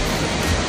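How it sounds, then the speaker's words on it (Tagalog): Steady, loud roar of water pouring down at Hulugan Falls, a broadband rush filling the short moment with no break or other sound. "Here's the Hulugan Falls."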